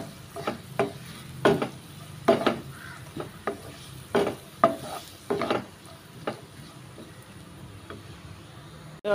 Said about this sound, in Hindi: तुमगे पियाव भाजत येता